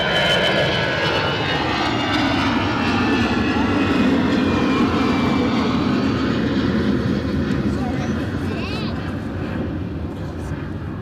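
An airliner's jet engines roar up close at Edinburgh Airport during landings and take-offs, a loud, sustained rumble that fades slightly toward the end, with voices talking over it.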